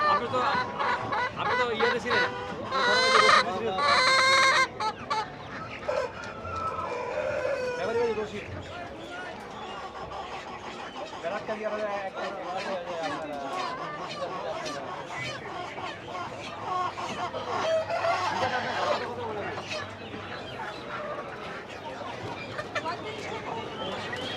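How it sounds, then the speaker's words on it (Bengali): Large chickens at the traditional Tongi bazaar beside the Turag river cluck and crow now and then amid busy market bustle, heard under steady nearby talk. "বাইরে এখানে মোটামুটি সবই বড় সাইজের মুরগি"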